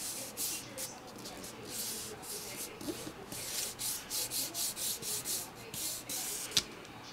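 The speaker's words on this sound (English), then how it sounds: "I'm just going to smooth that down with my hands." Hands smooth down a paper craft piece, giving a close series of soft, rhythmic rubbing strokes against a rough surface.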